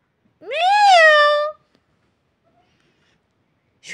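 A cat gives one clear, drawn-out meow up close, rising and then falling in pitch. After a short silence a second call begins at the very end.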